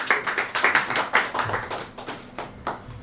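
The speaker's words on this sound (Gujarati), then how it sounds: "આપ સૌની તાળીઓ વચ્ચે હું સુનિલભાઈ સોનીને આવો સુનિલભાઈ" An audience at an indoor 81st birthday celebration claps, giving a moderate patter of hand claps that thins out toward the end, with no speech.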